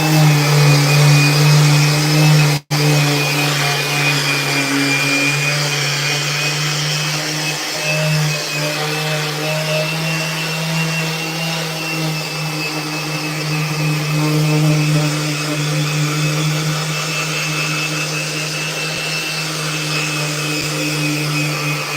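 Power sander working the top and bottom faces of a wooden skateboard deck in a shaping shop, a steady loud motor drone with a constant whine, running continuously and nearly unbroken, with one brief cutout early on.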